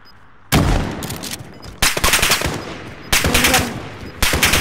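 Automatic weapon fire in Call of Duty: Modern Warfare, loud close bursts of rapid shots in four separate volleys with brief pauses between them.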